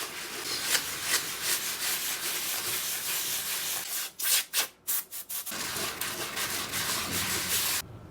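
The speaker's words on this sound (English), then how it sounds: "I'm gonna get the sanding of this glue down, which I gotta be a little bit gentle with" Hand sanding with 100 grit sandpaper to remove glue from a guitar conversion project, a steady rhythmic scratchy rubbing heard close and alone, briefly pausing into a few short strokes before resuming.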